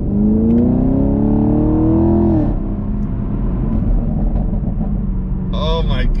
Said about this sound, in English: Pretty much all you hear is the performance exhaust back there